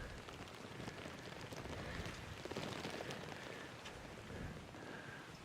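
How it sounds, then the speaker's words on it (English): Steady rain drums on a gazebo roof in a dense, continuous hiss with scattered drop impacts. It is faint overall and no voices are heard. "the forecast was for this rain between 12 and 1. It's turned up at 1"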